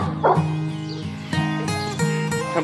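A dog gives a series of close, loud, tonal barks and yips in steady bursts, with no speech, outdoors with its owner during some free time.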